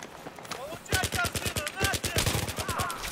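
A machine pistol fires rapid bursts in Battlefield 3 multiplayer, with quick repeated shots crackling close over a busy battlefield background.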